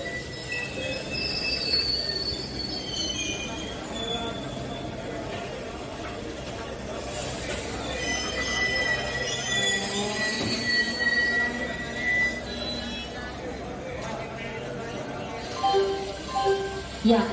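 Rajdhani Express pulling into platform 2 at Kollam Junction, with high steel wheel squeals ringing over a steady rumble of rail cars running close by throughout.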